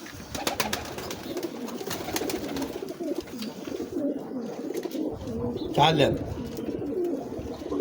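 A pigeon coos repeatedly close by, its low rolling calls running under a voice.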